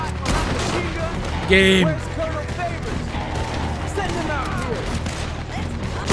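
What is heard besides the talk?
gunshots fired at a wooden plank in Red Dead Redemption 2 video game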